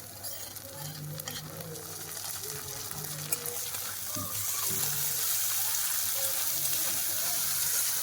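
Onion, garlic, chili paste and tomato frying in a pan for a Bengali chicken-stuffed pointed gourd dish, a steady sizzle with stirring scrapes that grows a little louder and denser partway through.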